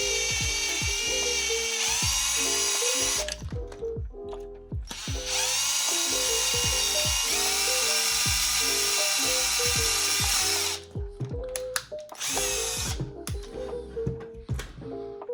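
An electric drill whines continuously as it bores into a Neutrona wand at a 45-degree angle, its pitch stepping up and down as the speed changes, with a few brief pauses, close and loud.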